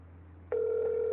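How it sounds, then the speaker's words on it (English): A telephone ring tone on a call to 911, a steady electronic tone starting partway through over a low background hum, loud and continuous to the end. "Look how many rings it takes."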